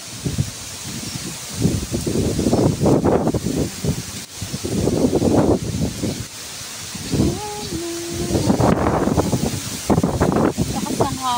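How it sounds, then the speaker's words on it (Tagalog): Strong, gusting wind sweeps through rustling leaves in a rural province yard, coming in loud, rough bursts that swell and fade, with a person talking now and then between the gusts. "Ang lakas ng hangin dito sa amin."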